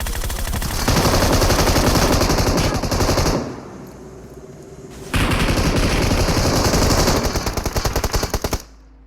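M249 machine gun firing in a video game: long sustained automatic bursts, loud and close, broken by a short pause before another extended burst that tails off into silence.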